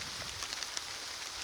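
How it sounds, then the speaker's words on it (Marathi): Heavy monsoon rain pours down steadily over open Konkan plateau fields at planting time, making a dense, even hiss close by with no voices. "हे बघा तर मंडळी बघू शकता पावसाने तर जोरात धरला."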